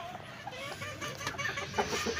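Hens and small chicks clucking in a farmyard, soft scattered clucks and peeps repeating at a moderate distance, with someone talking quietly over them.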